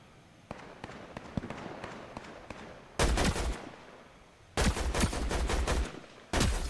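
Video game gunfire: scattered faint shots, then three loud sustained bursts of rapid automatic fire separated by short pauses.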